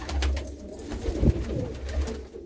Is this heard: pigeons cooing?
yes